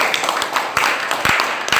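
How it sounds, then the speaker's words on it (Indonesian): A small audience at a business seminar claps briefly, a handful of close, uneven hand claps scattered over a couple of seconds. "tepuk tangan buat kita semua"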